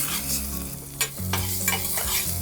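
Radishes drop into hot oil in a pan and sizzle, a steady frying hiss with a few sharp crackles and stirring scrapes, close and alone without talk.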